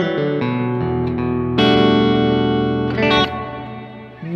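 An electric guitar played through a Caline Ragnarok reverb pedal, with a short delay also in use, rings out in sustained distorted chords that change twice and leave a lush reverberant tail, loud and without talk.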